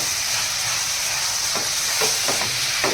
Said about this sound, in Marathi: गोल्डन कलर येईपर्यंत इथे मस्त असे इथे तेलामध्ये फ्राय करून घेणार आहोत